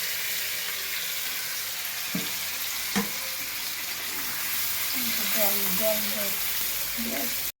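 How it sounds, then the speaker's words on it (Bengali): Spiced marinated chicken sizzles in a kadai, a steady close frying hiss with a few clinks of stirring, while a voice speaks over it in the later part. "এটা যেটা মাখানো ছিল মানে চিকেনটাকে, সেটা এবার কড়াইতে দেওয়া হবে"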